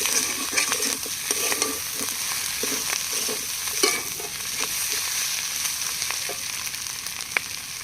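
Jodu palong greens, a salty leafy vegetable, are stir-fried in a pan, with steady sizzling and repeated scraping and clinking from the stirring spoon throughout.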